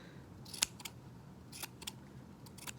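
Scissors trim a small yarn pom-pom in a handful of quick, crisp snips spaced unevenly, close and fairly quiet, with no talking.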